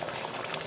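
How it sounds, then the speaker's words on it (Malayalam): Sambar bubbling at a steady boil in an uncovered pot, a close, continuous hiss and burble of small bursting bubbles with no talk over it. "ഇപ്പൊ നന്നായിട്ട് തിളച്ചു വരുന്നുണ്ട്"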